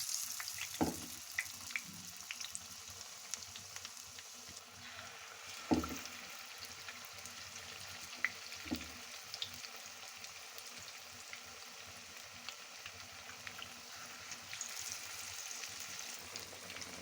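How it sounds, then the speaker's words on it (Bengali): Potato-stuffed beguni fry in hot oil with a faint, continuous sizzle, broken by a few soft knocks and clicks. "তেল গরম হয়ে গেছে, এবার বেগুনিগুলো একে একে তেলের মধ্যে দিয়ে দেব।"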